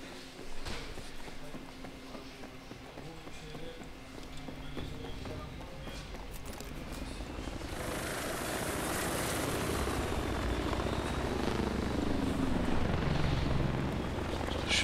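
Helicopters come under enemy fire in Battlefield 3, a steady rotor drone beneath dense crackling gunfire and battle noise that grows louder and fuller through the second half.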